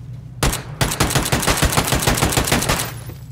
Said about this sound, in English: Was that you shooting, or someone else?